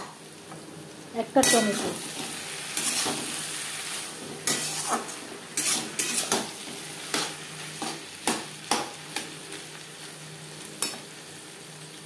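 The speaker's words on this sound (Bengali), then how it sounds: "বেগুনের সাথে বেশ ভালো করে মিক্স করে দেবো।" Eggplant with spices and tomato being stirred in a frying pan: a steady sizzle with repeated scraping and clinking strokes of a spoon against the pan, close up, with a brief spoken remark.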